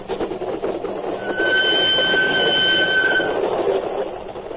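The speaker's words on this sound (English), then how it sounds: "As my train crossed the border and thundered across the flat Holland marshes toward my refuge in Denmark" A train thunders across flat Holland marshes near the border, a steady rolling rumble with rail noise and a sustained high wheel squeal swelling in the middle before easing, loud and close with no voices.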